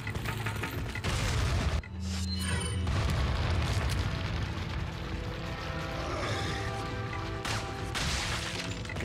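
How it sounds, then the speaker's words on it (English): Grenade explosion in Resident Evil 4, a loud booming blast that fills the whole clip, with a brief dip and then sustained rumbling debris and crackle, heard alone without talk. "Other grenade."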